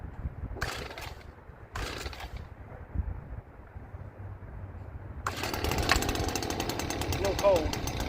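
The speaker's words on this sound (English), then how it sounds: "That old trusty little steel leaf blower here" A small leaf blower engine starts up partway through and keeps droning loudly and steadily, following a couple of short bursts and quieter background rumble.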